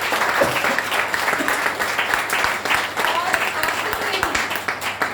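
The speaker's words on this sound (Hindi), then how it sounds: "तो एक बार तालियां बजा लीजिए इस ऑफर के लिए।" Audience applause fills a seminar hall, a steady dense wash of clapping that runs throughout without pause, with the crowd's noise mixed in.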